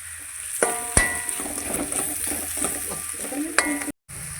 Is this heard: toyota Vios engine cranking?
no